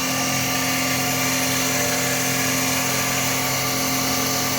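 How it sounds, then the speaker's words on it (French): A power drill bores a hole in a workpiece on a turning table with a sustained whining motor tone, close and steady, no speech. "Puis là, je vais percer celui qui est tout en bas."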